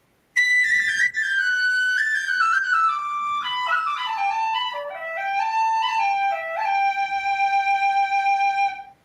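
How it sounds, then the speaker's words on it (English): A clear, bright whistle plays a continuous melody, its notes stepping and sliding gradually lower over several seconds, loud and close. "This whistle is incredibly clear."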